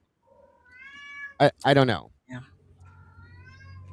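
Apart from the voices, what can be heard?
cat meowing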